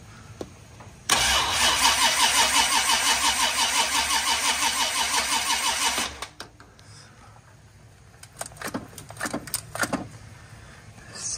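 An Oldsmobile engine fresh from a top-end install cranks and catches, then runs loud and steady for about five seconds before cutting off, leaving quiet shop sounds and a few scattered knocks.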